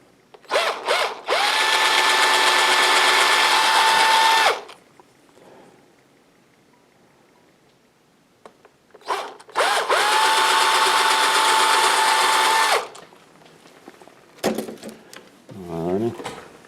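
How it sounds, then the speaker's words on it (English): A power drill boring a small hole for a Native American craft project, two loud, steady whirring bursts of several seconds each with a quiet pause between, followed by brief handling noise and talk. "I'm going to drill a little hole in here"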